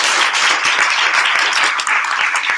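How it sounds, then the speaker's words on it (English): Loud, sustained audience applause for a panel, a dense wash of many hands clapping steadily and close, with no speech over it. "So just a round of applause for everyone."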